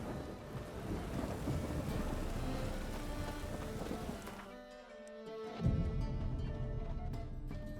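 Rain and thunder in The Witcher 3: Wild Hunt on PC play as a steady wash of rainfall, with a low thunder rumble and a sharp crack partway through, while the game's background sounds continue.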